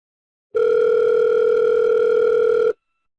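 A steady telephone dial tone sounds alone for about two seconds while a call is being placed, starting and stopping abruptly against silence.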